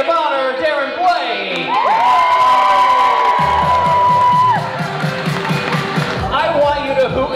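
Wedding guests at a DJ-hosted reception cheer and holler together, a rowdy crowd of whoops and a long sustained yell over a steady thumping music beat.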